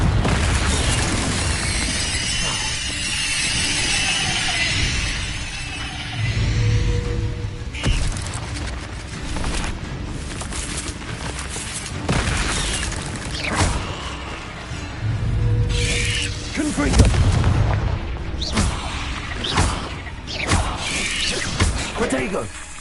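Confringo fire spell blasts in Hogwarts Legacy combat, several booming impacts and crackling bursts scattered through a long stretch of dense game noise, recurring at irregular intervals.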